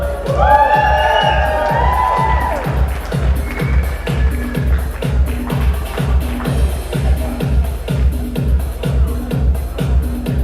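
Wedding reception crowd cheering and whooping loudly and continuously, with a rhythmic thumping beat underneath and excited shouts rising early on.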